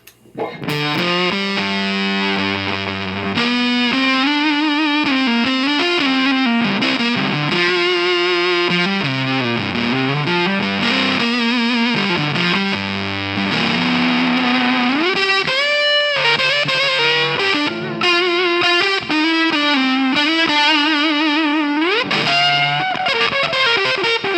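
Guitar played through a mini fuzz pedal followed by stacked optical compressor pedals, producing a loud, sustained, heavily fuzzed tone with gliding, bending notes and thick distorted harmonics throughout, with no voices.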